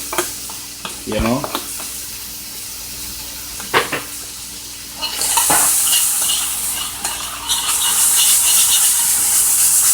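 Scallions and onions hit hot coconut oil in a pan, starting with stirring knocks and scrapes, then a loud bright sizzle that swells and holds steadily, with a brief spoken aside early on.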